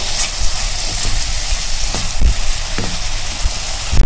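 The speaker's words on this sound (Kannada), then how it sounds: "ಇದೆಲ್ಲ ಹಾಕಿ ಈಗ ಹಸಿ ವಾಸನೆ ಹೋಗೋವರೆಗೂ ಹುರ್ಕೋಬೇಕು" A ground masala of fresh coconut and green chili frying in a pan for vegetable pulao, a dense close crackling sizzle with a few soft stirring knocks, no voices.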